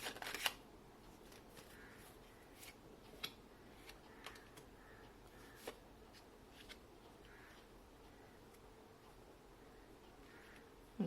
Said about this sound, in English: I feel like I need to shuffle the cards.